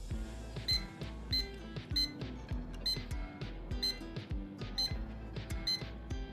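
Button presses on a mini digital alarm clock timer set off a rapid series of short electronic beeps, roughly one or two a second, close and clear with no talk.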